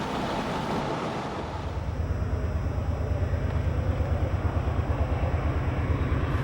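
A BNSF freight train at the 4,190-foot summit of Cajon Pass rolls past with a deep, steady rumble that builds and holds loud and close, wheels clattering in a continuous rhythm.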